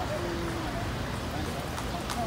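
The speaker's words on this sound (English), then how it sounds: "Oh, there's a horsey horsey." Horse hooves clip-clop steadily on a street in Intramuros, Manila, close by, amid outdoor ambience and background voices.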